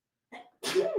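A single sneeze sounds close and fairly quiet: a short intake breath, a brief pause, then the sharp burst of the sneeze.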